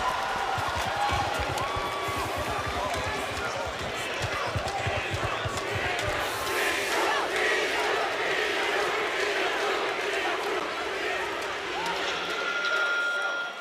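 A large esports arena crowd at a Valorant grand final roars continuously, a dense wall of cheering and shouting that stays loud throughout, with a commentator's voice faintly running beneath it.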